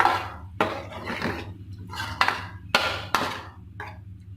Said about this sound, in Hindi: अब इसको ढक्कन लगाते हैं।